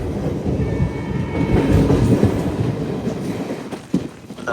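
The Narsapur Express, train 17256, runs on the rails on a foggy morning near Akividu, a loud steady rumble and clatter of carriages heard from on board with no voices.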